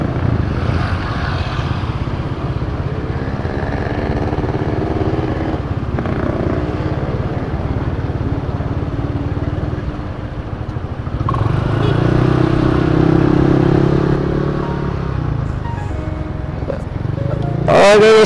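A Yamaha Aerox motor scooter being ridden, its engine droning steadily throughout with a swell in revving partway, mixed with wind and road noise while people talk over it.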